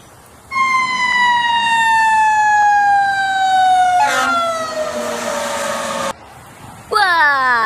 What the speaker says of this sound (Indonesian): ternyata ada mobil pemadam kebakaran